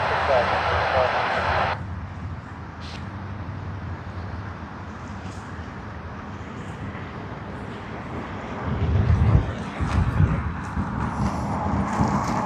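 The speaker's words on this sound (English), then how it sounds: "Sydney to Canberra service on Qantas Link QLK 1437 on the -8-400 is on its takeoff roll from runway 60 now" A Qantas Link Dash 8-400 turboprop airliner on its takeoff roll at Sydney Airport gives a broad, steady engine roar that swells slightly near the end, heard from a distance as a continuous wash.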